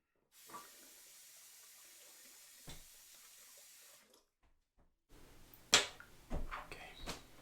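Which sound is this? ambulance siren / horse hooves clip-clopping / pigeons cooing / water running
water running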